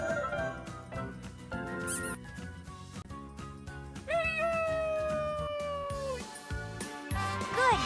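A cartoon cat meows in a children's alphabet song, several bright, sliding mewing cries standing out over bouncy music, with a voice nearby.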